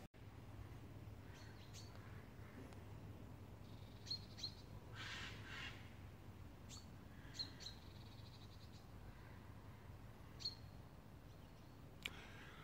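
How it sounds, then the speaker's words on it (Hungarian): Birds chirp and twitter along a quiet country road, with brief high calls scattered through a steady low background hum; crows are not clearly distinct. "elég komoly madár csicsergés és varjúkárogás közepette haladunk ugye ezen az úton befele"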